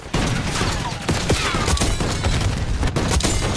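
Gunfire in Call of Duty: Black Ops 6 multiplayer: loud, rapid bursts of shots and sharp cracks overlapping in a continuous fusillade, close and dominant.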